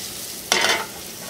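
Chicken pieces browning in a hot pan to render their fat, a sustained sizzle with one brief louder burst of frying noise partway through, no voices.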